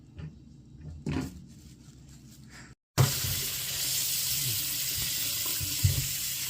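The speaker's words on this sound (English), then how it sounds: "We need to wash potato." Tap water runs loudly into a sink to wash potatoes, preceded by a few soft kitchen clunks and a brief pause, then a steady, close splashing stream.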